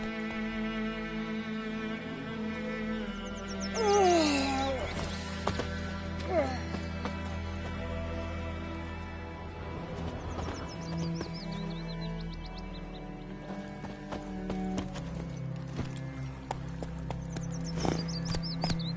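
Roach, a horse in The Witcher III, trots with steady hoof clops under ambient birdsong and a music bed, while a voice speaks over it.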